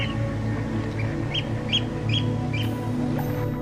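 Migratory waterbirds at a high-altitude Ladakh wetland lake give repeated short calls over a steady low ambient hum, moderately close.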